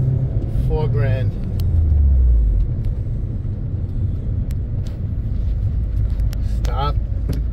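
A car engine accelerates from a stop toward 3000–4000 rpm, giving a low rumbling drone with a rising tone early on, while a voice talks over it.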